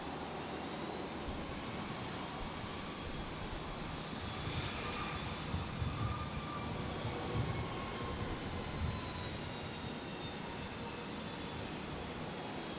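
A Qantas airliner departing Brisbane International Airport roars with a steady, distant jet engine rumble that swells slightly midway and holds throughout, with no talk over it.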